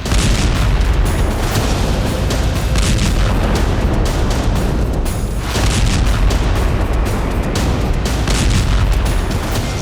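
An oil depot burns after a drone attack, giving a loud, continuous roaring rumble of blasts and fire with no pauses and no speech.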